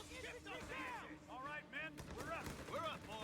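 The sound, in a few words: gunfire in Company of Heroes 3 video game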